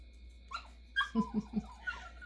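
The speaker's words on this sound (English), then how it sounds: "I know you hear my dog in the background. She scratches herself and whines." A pet dog whimpers and whines softly indoors, a few high plaintive notes followed by three short lower yelps, faint against quiet room tone with no talking.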